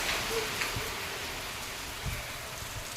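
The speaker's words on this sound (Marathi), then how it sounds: "दुकानातून बघूया आपण पाऊस" Steady rain hisses down without a break, heard from a shop, a dense even patter with no voices.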